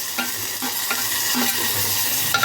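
Onion and tomato frying in a pan for Maggi noodles, a steady close sizzle with a few stirring scrapes and no talking.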